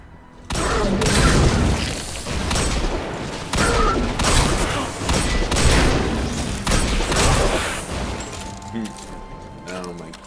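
Hand cannon gunfire in the video game Destiny on PC, repeated loud booming shots with crackling impacts amid dense game effects, while a voice speaks over the action.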